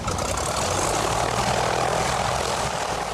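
Float plane on pontoons in Alaska, its propeller engine giving a steady, moderately loud droning roar throughout without any speech.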